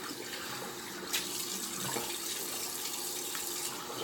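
Tap water runs steadily for rinsing after a shave with a Rockwell 6C safety razor, a continuous close hiss of flowing water at a sink with slight splashing shifts, no talking.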